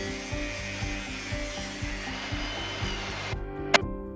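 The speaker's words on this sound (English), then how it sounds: "she's cutting back the bolts" A power tool cutting back steel floor fixture bolts on a garage floor during epoxy prep, with a rhythmic grinding rasp in repeated strokes, then a sharp metallic clank as it stops.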